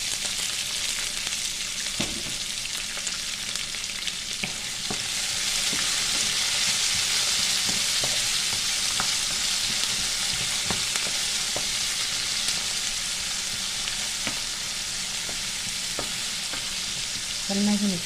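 Onion, green chilli and curry leaves frying in oil in a pan for masala dosa filling, a loud steady sizzle with intermittent scraping stirs, close-up and with no talk.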